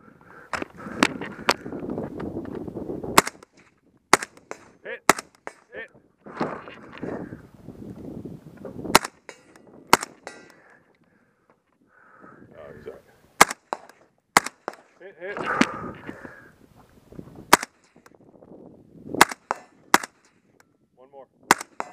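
Sharp gunshots crack out at a 3 Gun shooting match stage, a string of single shots spaced irregularly with some quick pairs, loud and close, with muffled voices and movement between them.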